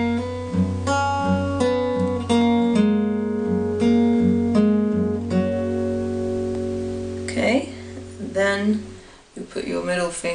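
A guitar plays a riff, a few ringing picked notes over a sustained low open string for several seconds, before a person starts talking at the end.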